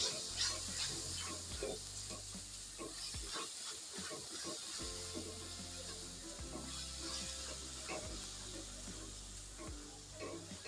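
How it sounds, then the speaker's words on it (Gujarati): Onions fry gently in oil in a pan before ginger-garlic paste goes in, a soft steady sizzle with scraping stirs and a short quiet gap partway, fairly faint throughout. "હવે ડુંગળી નો થોડોક આછો ગુલાબી કલર થાય ને તાલે આપણે તેલમાં એને શેકાવા દઈશું"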